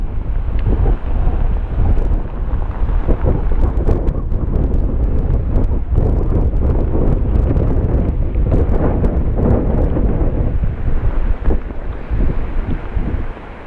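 Strong wind on a farm in Natividad, Pangasinan buffets the microphone in a constant rough roar, gusting and rumbling throughout with no talking.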